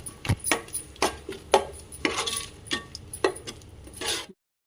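Curd is stirred into egg biryani in a pan, with about eight close, rhythmic scraping clinks of a utensil against the pan before the sound stops abruptly.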